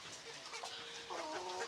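Golden chickens on a poultry farm clucking steadily at close range, several birds overlapping in short repeated calls over a low barnyard background.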